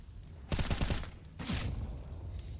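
Gunfire and a grenade blast in a Counter-Strike match from the ESEA Intermediate playoffs: a rapid, close volley of shots, then a second short, heavy burst about a second later, with no talking.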